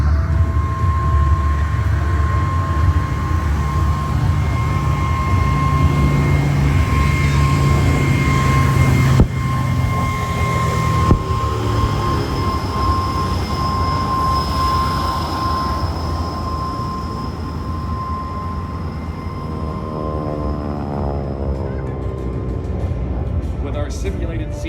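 Warbirds at the Nellis Aviation Nation airshow, a PBJ bomber chased by a Hellcat and a simulated Zero, make a continuous rumbling engine drone with a sustained tone. A loud announcer talks over it throughout.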